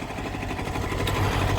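A small, light tractor engine rattling and chugging while it pulls a heavy trailer, a steady close-up drone with a buzzing vibration that runs throughout, heard alone.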